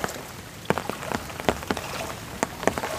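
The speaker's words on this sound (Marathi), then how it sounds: "किती पाऊस पडतो थांबतच नाही" Heavy monsoon rain falls in a steady patter on nearby surfaces, with a few sharper drops and splashes standing out from the continuous hiss, and no one speaking.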